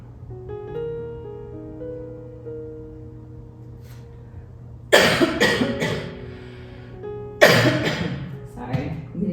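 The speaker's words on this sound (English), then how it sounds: "Sorry, I'm getting over a cough." Two bursts of harsh coughing from someone getting over a cough, each a loud cluster of rapid hacks, following a stretch of soft background music, close to the microphone.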